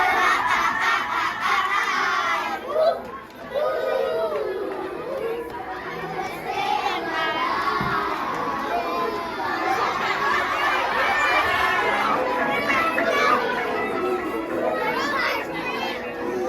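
Third-grade children cheer and shout together at a school cheer walk, a dense, steady crowd roar of young voices with overlapping chatter and squeals running throughout, briefly dipping near the start.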